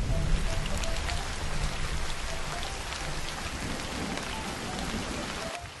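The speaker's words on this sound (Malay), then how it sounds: "Hujan dah turun lah" Steady rain pours down onto surfaces, a dense continuous hiss with scattered drops and a faint low rumble like distant thunder, loud and unbroken with no voices.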